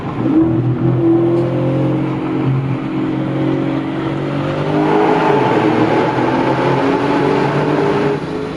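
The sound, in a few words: V8 Audi S6 engine driving through a tunnel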